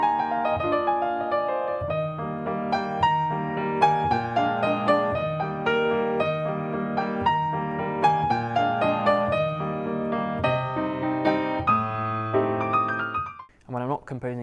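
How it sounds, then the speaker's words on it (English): Solo piano playing a self-composed piece, rich sustained chords and melody in a steady flowing rhythm, close and clear, ending with a brief swooping sound in the last second. "So I compose my own piano music"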